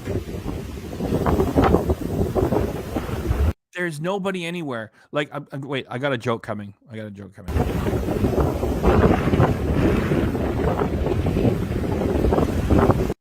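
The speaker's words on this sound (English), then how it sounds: "All you hear is the roar of the wind." Strong wind roars at sea against the microphone aboard a boat, a loud steady broadband rush that fills the opening and closing stretches, broken in the middle by a quieter section where someone talks.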